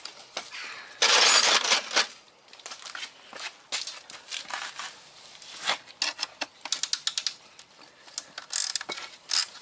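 An 11mm socket on a ratchet wrench turns a bolt during car radiator work, giving rapid dry ratcheting clicks in uneven bursts at close range, with no talk.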